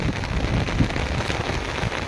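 Heavy monsoon downpour in Taunsa Sharif, a steady dense roar of rain hitting surfaces, constant and enveloping with no voices.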